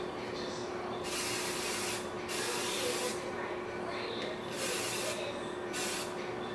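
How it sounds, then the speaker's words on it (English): Several short bursts of aerosol protector spray hiss out one after another onto a canvas purse, each lasting about a second, close up with brief pauses between. "I'm going to spray on the top and this little tab right here and the side tabs."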